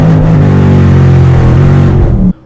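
A twin-turbo 6.5-litre 397 engine roars loud and close, revving hard in one sustained acceleration before cutting off abruptly near the end, with no voices.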